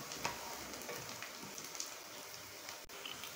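Onions frying in a pan for a sour pumpkin curry, giving a faint, steady crackling hiss that runs evenly throughout with small pops and no voices.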